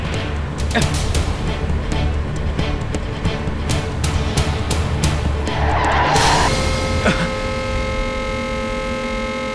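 Car speeding out of control with tires skidding and squealing under braking, a continuous loud rush of engine and road noise with a rising screech near the end, set in a dramatic scene.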